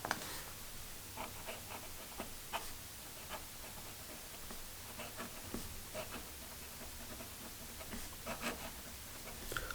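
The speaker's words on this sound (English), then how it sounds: "let's get a quick writing sample" A Hero fountain pen filled with Parker Quink ink scratches lightly across paper in a short run of faint, close nib strokes and soft scrapes against quiet room hiss.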